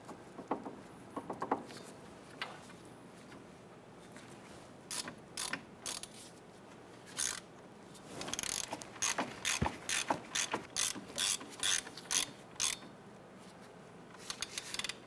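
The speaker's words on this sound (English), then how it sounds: "we're going to come back with our ratchet and we're going to go ahead and snug those down" A ratchet snugging down the wheel hub bolts on a 1999-2004 Jeep Grand Cherokee during a wheel bearing and hub replacement: close, quiet bursts of rapid clicking pawl action, sparse at first and then in quick repeated runs, with no talking.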